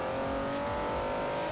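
A Ferrari 330 racing around a tight track, its engine droning steadily at high revs throughout, loud and continuous with no speech.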